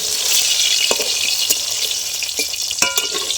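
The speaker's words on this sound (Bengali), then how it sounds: "বেগুনটা আমি খুব ভালো করে ভেজে নিচ্ছি" Eggplant frying in hot oil, a steady close crackling sizzle with scattered sharp pops and spatula scrapes, no voices.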